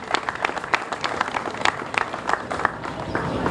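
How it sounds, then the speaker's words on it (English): An outdoor audience claps at a civic street renovation celebration, a brisk burst of scattered hand claps that holds steady for a few seconds with faint crowd murmur beneath. "so let's give her a round of applause as well"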